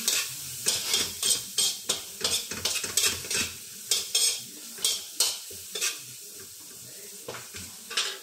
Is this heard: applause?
no